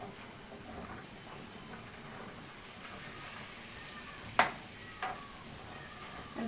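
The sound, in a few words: vegetables sizzling as they are added to the pan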